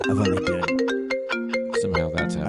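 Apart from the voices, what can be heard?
phone ringtone playing through the computer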